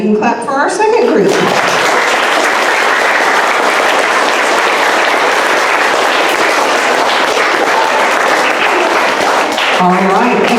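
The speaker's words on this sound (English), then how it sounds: "now you can clap for our 2nd group" Students at an honor roll awards assembly applaud the second group, sustained dense clapping from a crowd filling the room for about ten seconds, with a brief voice at the start.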